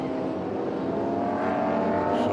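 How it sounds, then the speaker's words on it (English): Historic touring cars, including Holden XU1s and big Mustangs, race past at the Winton Festival of Speed, a loud continuous engine roar that builds steadily as they come through. "then the next lot of cars coming through with the XU1s and the big Mustangs"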